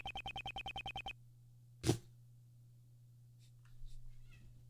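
Cats make noises near a door: a rapid series of short repeated tones, then a single thud as something bumps, followed by faint scattered sounds over a low steady hum.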